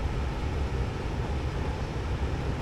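Steady broadband whoosh of a laminar flow hood blowing clean air in a lab set up for taking a fungal spore print sample, constant and fairly loud with no talk over it.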